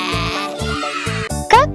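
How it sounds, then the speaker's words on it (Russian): A lamb bleats in short repeated calls, several wavering bleats in a row with a brief higher cry at the end, close and clear against a quiet background. "Как поет барашек?"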